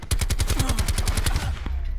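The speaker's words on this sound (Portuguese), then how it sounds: "Teammate deu tanto tiro." Rapid automatic gunfire from a teammate in the Black Ops 4 video game, a steady burst of about a dozen loud, close shots fired in even rhythm with no pause.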